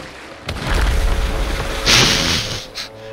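Explosion rocking a ship in Sea of Thieves, a deep rumbling boom that swells and rolls on for a couple of seconds with a bright hissing crash on top, loud and close.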